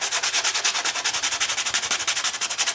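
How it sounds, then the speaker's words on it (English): Sandpaper rubs back and forth over dry black gesso along the edges of a textured art background, a steady rhythmic scratching of about four strokes per second, close and alone. "I'm gonna go in with some sandpaper now, and I'm just going to pick up the edges there"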